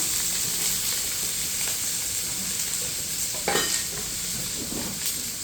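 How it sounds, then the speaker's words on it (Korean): Garlic scapes sizzling in hot oil, a steady crackling fry with occasional stirring scrapes, close by and without speech. "이렇게 지글지글 싹싹 소리 나죠?"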